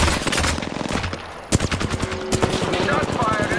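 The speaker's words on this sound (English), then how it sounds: "Shots fired, and they're hitting me." Rapid automatic gunfire from an Apex Legends match rattles loud and close in dense bursts, pausing briefly before a sharp crack and more sustained fire, with game effects layered underneath.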